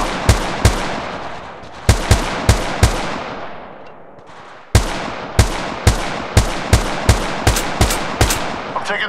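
Rapid bursts of gunfire from an Apex Legends match, loud sharp shots in quick clusters separated by a brief quieter pause, with no talk.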